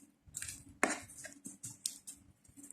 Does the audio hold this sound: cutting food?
yes